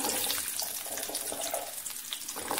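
Tap water runs steadily into a kitchen sink while food is being cleaned for a spicy Karaikudi kara kuzhambu, a continuous close splashing stream with no talking.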